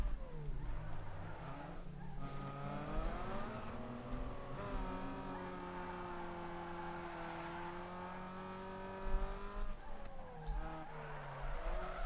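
A car drifts in Need for Speed Underground 2, its engine holding steady revving harmonics while tire squeal and skidding noise run loud and continuous through most of the stretch, with brief louder bursts near the end and no talking.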